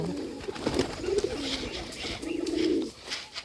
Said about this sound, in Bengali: দেখুন খাবার খাইতেছে কবুতর